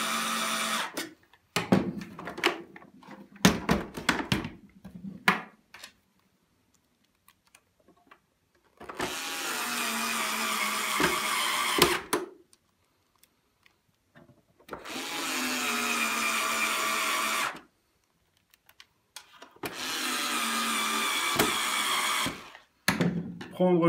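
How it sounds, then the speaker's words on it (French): A cordless drill-driver runs in three bursts of several seconds each while screwing together the casing of a Lux Intelligence AP11/AP12 vacuum cleaner. Handling clicks and knocks fall between the bursts, which sound moderately near. "Si vous utilisez une visseuse-dévisseuse, ne pas aller à fond."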